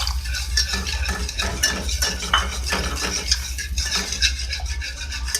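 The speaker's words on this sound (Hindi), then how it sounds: "सही से मिक्स करें।" Milk being stirred into white sauce in a pan for a chicken and vegetable roll, with steady scraping and clinking of a utensil against the pan, close and continuous, alone without talk.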